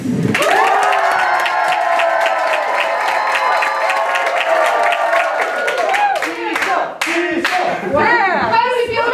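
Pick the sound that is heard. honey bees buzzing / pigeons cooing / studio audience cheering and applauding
studio audience cheering and applauding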